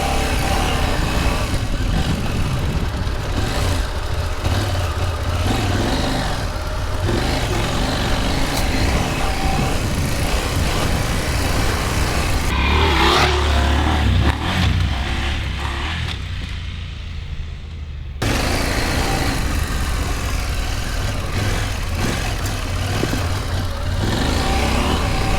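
A KTM 790 Adventure R motorcycle ploughing through deep sand, its engine loud and close as it revs and strains in surging bursts, dropping briefly quieter midway before roaring back, with no talk.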